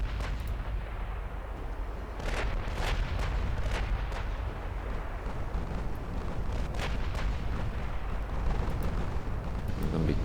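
Heavy naval gunfire from battleships shooting armour-piercing shells in Ultimate Admiral Dreadnoughts, a series of sharp booming salvos at irregular intervals over a constant low rumble of sea and engines.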